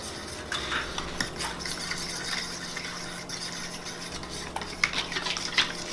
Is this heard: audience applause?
no